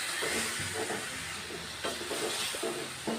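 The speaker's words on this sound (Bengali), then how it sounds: "এরপর আমি ওই ম্যারিনেট করা চিকেনটা এর মধ্যে দিয়ে দিলাম।" Marinated chicken hitting a hot pan, giving a steady, close sizzle and hiss with faint stirring scrapes throughout.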